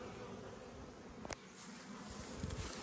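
Honey bees hum around hives during a strong nectar flow, a dense continuous buzz from many insects with a few louder passes as individual bees fly close, no voices.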